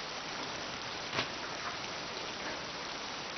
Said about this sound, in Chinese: 外面下雨呢，拿把伞吧